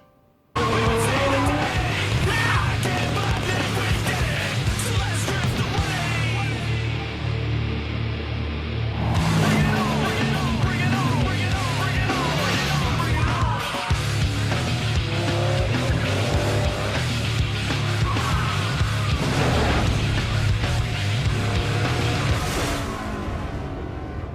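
Racing cars from a Fast and Furious trailer roar loud and close, engines revving while tires squeal and skid in long sustained bursts, with no talk.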